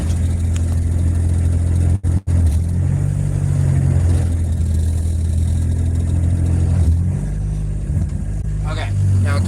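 A Mazda Miata engine at very light throttle, about 3%, running rich with a hesitant stumble, gives a steady low mechanical drone throughout with two brief dropouts near the start and slight wavering later.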